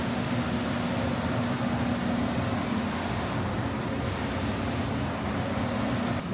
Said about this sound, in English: Still pumping a little water here,